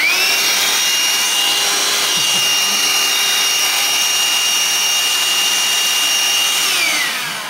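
A loud, steady high-pitched motor whine runs continuously from a Parkside 20V cordless vacuum cleaner, winding down slightly at the very end.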